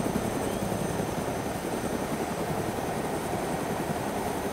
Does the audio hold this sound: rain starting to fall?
no